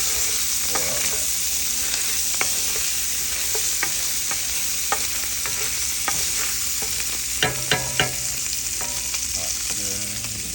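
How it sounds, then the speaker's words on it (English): Bacon sizzles steadily in a hot pan as it fries until crispy, with a constant loud hiss and scattered pops and crackles, plus occasional clatter of stirring near the end. "The bacon is done. Not so much rendering it as we want crispy bacon."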